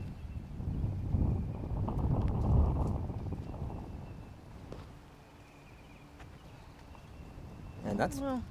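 Wind gusts across an outdoor disc golf course during a tournament round, a heavy low rumble buffeting the microphone that swells early and eases off, with a short chirping sound near the end.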